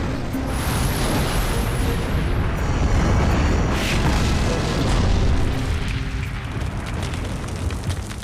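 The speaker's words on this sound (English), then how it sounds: "if you make the ammo explode on a T-72 or any Russian tank" Ammunition exploding inside a T-72 tank, a sustained loud roaring blast with rumbling fire and crackle that carries on for several seconds.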